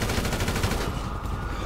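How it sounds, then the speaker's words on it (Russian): Rapid automatic gunfire from an online shooting session in GTA 5 Online, a dense, loud continuous burst of shots filling the clip without any talk. "Много выстрелов."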